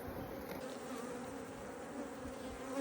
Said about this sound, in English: There's a whole lot of bees going on in there.